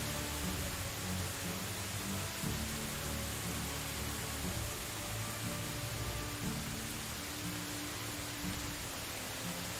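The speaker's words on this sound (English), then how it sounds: "it sounded almost like in game the rain got" Steady rain falling in the Medieval Dynasty video game, a dense even hiss with soft patter that holds constant and fairly loud throughout, with no voices over it.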